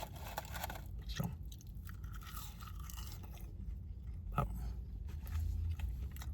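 Close, intermittent chewing and occasional crunchy bites while eating McDonald's fries and a Grilled Ranch Snack Wrap, steady and fairly quiet.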